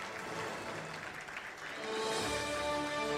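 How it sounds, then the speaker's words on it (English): Faint applause from an audience at a children's art competition award ceremony, greeting a young award winner; the clapping thins, then swells again toward the end. "Big round of applause."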